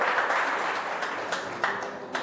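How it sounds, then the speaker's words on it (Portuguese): Church congregation clapping during a service, a dense, steady patter of many hands with a few sharper claps standing out near the end. "As palmas são para o Senhor."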